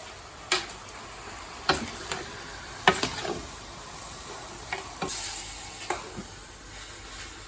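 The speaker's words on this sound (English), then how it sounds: "And now we stir around." Beef stifado ingredients stirred in a pot, with a spoon scraping and knocking in several sharp, irregular strokes over a faint sizzle, close by, no talk.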